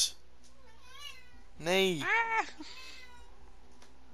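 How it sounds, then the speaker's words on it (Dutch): A cat meows in a rising and falling, drawn-out call close by in the middle of the stretch, with a person speaking briefly over a quiet room background. "Stop maar een druk maken van je fucking kittens."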